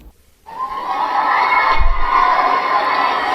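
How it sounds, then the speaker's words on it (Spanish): A studio audience breaks into applause and cheering after a brief silence, a dense, steady crowd roar of clapping that stays loud for about three seconds. "se escuchan los aplausos"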